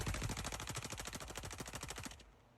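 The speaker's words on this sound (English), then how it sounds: "posted a video of himself shooting a rifle at packs of beer" Rapid string of rifle shots fired at packs of beer, around twenty cracks in quick succession, loud and close, ending abruptly with a fading echo.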